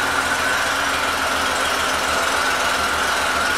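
A 1999 Honda GL1500 Goldwing SE motorcycle engine idles steadily and close by, a smooth, even rumble with a low pulsing beat that holds constant throughout.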